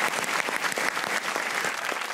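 Studio audience applause on a comedy talk show, a steady dense wash of many hands clapping at once, loud and sustained throughout with no talking over it.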